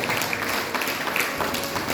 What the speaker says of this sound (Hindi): आप लोग जब नाम हो तो ताली बजाया करो।